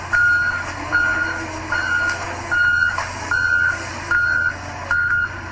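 Reversing beeps from trucks moving bodies sound in a steady pulse of seven evenly spaced tones over a low engine rumble, fairly close, with no talking.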